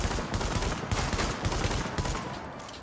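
Rapid, continuous gunfire from a shotgun in the video game The Division, loud bursts running densely through the whole stretch with no pauses.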